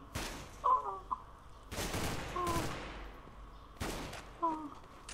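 Gunfire in Counter-Strike: Global Offensive on the Dust 2 map, three sharp bursts of shots spaced a second or two apart, moderately loud over faint background game sound.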